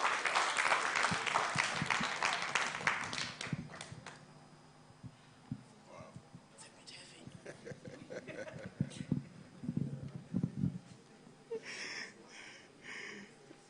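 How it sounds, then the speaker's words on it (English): Applause for the runners-up team at a privacy moot court competition final, loudest at the start and then thinning into scattered claps, chuckles and murmuring voices across the room. "Please, a round of applause for them."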